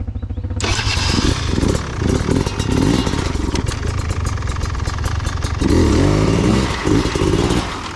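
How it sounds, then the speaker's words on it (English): A dirt motorcycle engine starts and runs loudly on a steep trail ridge climb in the Watagans, with a steady rough idle and blips of revving close by throughout. "I reckon start your engine"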